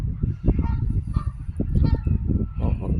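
Geese honking in a park, a close, busy flock giving rapid overlapping honks throughout with no gaps.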